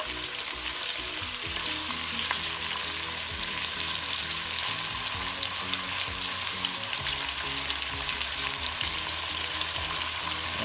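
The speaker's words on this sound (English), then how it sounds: "Okay, now we are browning the garlic, and we are going to be adding our ham and our crushed red peppers." Garlic, ham and crushed red pepper browning in a pot for pasta fagioli give a steady, dense sizzle that continues unbroken throughout, with no voices.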